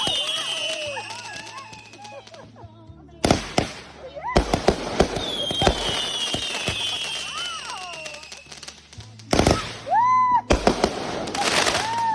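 Fourth of July consumer firework cake called Deja Vu going off, a series of loud sharp bursts and crackles with whistling shots rising between them, close by, with people talking and shouting over it.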